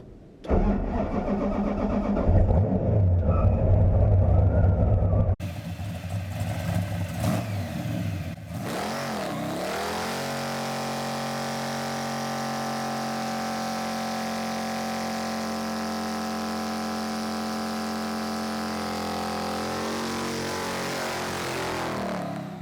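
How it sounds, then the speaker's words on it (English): A Hemi-powered Chevy Bel Air starts with a cranking catch, then its big engine revs hard and settles into a loud, rumbling, steady high-rev drone ahead of burnouts, close and dominant throughout. "So it's time to do burnouts."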